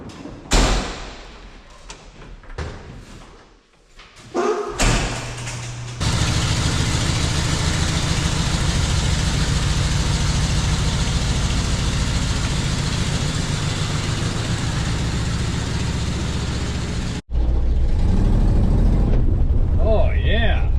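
Car engine fitted with a Holley Sniper EFI, heard after some door thumps and clatter, then starting and idling with a loud steady drone for most of the clip, briefly cutting off before resuming; people speak near the start.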